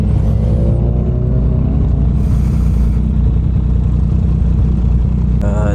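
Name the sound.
Yamaha MT09 motorcycle engine while riding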